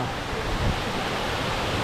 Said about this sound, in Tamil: அருவிக்கிட்டே வந்துட்டோம் தண்ணி கொட்டுறது தெரியுதா